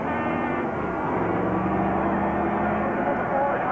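A New Zealand stock car roars steadily around a speedway track, a loud continuous engine drone filling the whole moment with no break.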